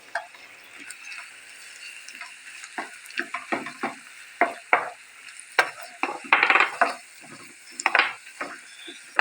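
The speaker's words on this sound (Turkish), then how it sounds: "Kıymasını da verdim. Şöyle bir kavuralım." Minced meat sautéing in a pan at home gives a soft continuous sizzle, broken by irregular scraping and clicking from stirring that grows busier toward the end, close to the microphone and with no talk.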